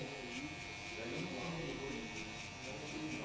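Electric hair clippers buzzing steadily while cutting a mid fade in a barbershop, a continuous close motorized hum with slight changes as the blade moves through hair, a voice talking softly underneath.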